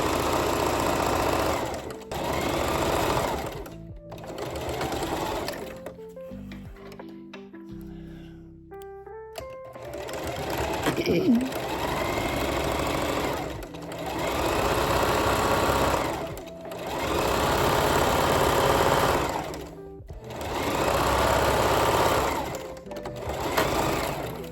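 A sewing machine stitches fabric in a small craft workshop. It runs in several loud, rapid bursts with short pauses between runs, and there is quiet clicking and handling in a longer gap.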